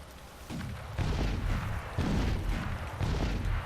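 Gunshots in the video game Crysis Warhead, four heavy booming blasts roughly a second apart, loud and close, each with a rumbling low tail, no talking over them.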